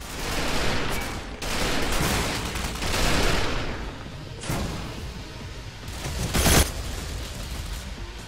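Bursts of gunfire from Ghost Recon Phantoms during a defense mission, loud and close, with short volleys and shots overlapping into a dense, continuous barrage and one sharper blast near the end.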